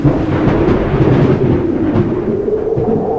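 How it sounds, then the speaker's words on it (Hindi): Strong storm wind roars steadily and loudly throughout, a dense broadband rush with a low rumble underneath, like a gale during a thunderstorm, with no distinct thunder crack standing out. "एक दिन तेज आंधी आई"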